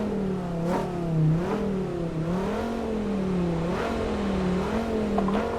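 A car's engine in Euro Truck Simulator 2 drones continuously, its pitch rising and falling as it revs through gears, steady and fairly loud with no talk.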